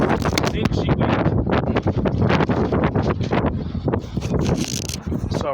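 Strong outdoor wind buffets the microphone in a loud, continuous rumbling roar with gusty surges that rise and fall, leaving no clear speech above the noise.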